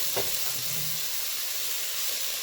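Vegetables, onion among them, sauté in a hot pan for albondigas meatball soup, giving a steady close hiss and sizzle with a soft knock at the start.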